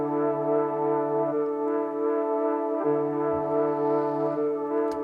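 A synth melody rendered in FL Studio at half-time and reversed: sustained, wavering tones with a steady low note that drops out and returns, smooth and continuous at a moderate level.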